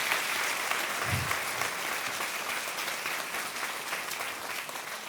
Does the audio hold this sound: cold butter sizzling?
no